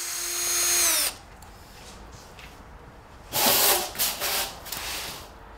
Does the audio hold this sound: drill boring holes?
yes